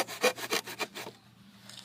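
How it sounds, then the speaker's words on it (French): A hand saw rasps back and forth through thin, dry wooden planks in about six quick strokes, then the cutting stops and the air goes quiet. "Donc vous voyez que ça se scie quand même pas mal vite."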